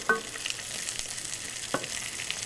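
Chicken frying in a pan gives a soft, steady sizzle with a couple of sharper crackles and stirring scrapes, fairly quiet and with no talk.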